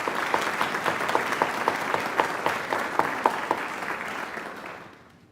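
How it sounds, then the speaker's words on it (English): An audience at an honors convocation claps for honorees, a full round of applause with a few sharp individual claps standing out before it gradually fades away. "Let's give them both a round of applause."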